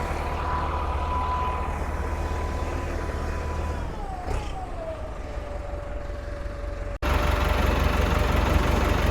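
An old Ford 6640 tractor engine runs steadily with a low rumbling drone that holds through the clip, a brief dip near the end before it resumes louder and closer.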